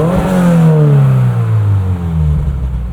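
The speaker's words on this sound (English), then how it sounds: "This is a premium with, as you can hear, the GR Performance dual exhaust." Loud and near, the GR Performance dual exhaust on a 2023 Toyota GR86 Premium manual roars through a rev and then winds down steadily in pitch.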